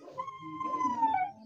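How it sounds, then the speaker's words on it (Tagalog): A dog whimpers and whines in a rising, wavering cry lasting over a second, close and fairly clear at a home during a backyard lunch. "May kasama iyak ng aso."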